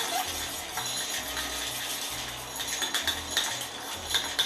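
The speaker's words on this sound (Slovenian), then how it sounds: "Mešamo tako dolgo, da se maslo raztopi in lešnik izgleda takole." A spoon stirs hazelnuts with butter and a pinch of salt in a pan, giving soft repeated clinks and scraping with light rattling of the nuts, fairly quiet and close, with no speech.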